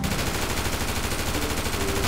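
Rapid automatic gunfire from a Draco rifle in a modded GTA 5 session, a dense, continuous burst of loud shots filling the whole stretch with no pause.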